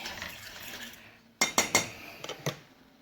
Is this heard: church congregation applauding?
no